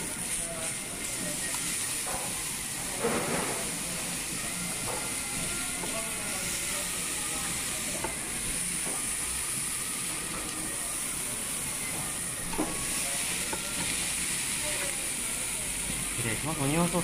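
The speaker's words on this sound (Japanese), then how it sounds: "しばらく肉の音を聞いてみましょうか。" Giant hamburger steak sizzling on a hot iron plate at a Sawayaka restaurant in Hamamatsu, a steady close hiss and crackle running throughout with occasional sputters and people talking in the background.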